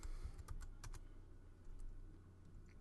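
A handful of keystrokes on a Mac computer keyboard typing a short command into a terminal, quick taps clustered in the first second, then faint background hum.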